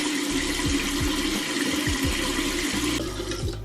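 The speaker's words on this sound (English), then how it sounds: "now I'm gonna wash it off" Running water splashes steadily as a face is rinsed to remove cleanser, with a continuous close wash of flow and a few low gurgling knocks throughout, no talking.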